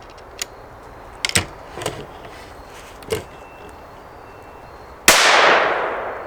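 A single sharp, loud .22 Magnum rifle shot near the end, followed by a long decaying echo, with a few fainter clicks and knocks before it.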